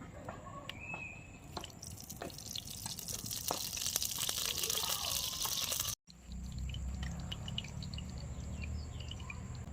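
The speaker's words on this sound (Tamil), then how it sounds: "கல் சட்டியும் காஞ்சிருச்சு நம்ம எண்ணெய் ஊற்றிக்கலாம்" Cooking oil is poured into a heated stone pot on a stove, giving a soft trickling, dripping sound that cuts out briefly and resumes as a quieter, steady hiss.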